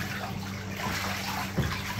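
Pet birds splashing in bath water, a continuous close, busy wash of splashing and spraying with a brief stronger splash near the end.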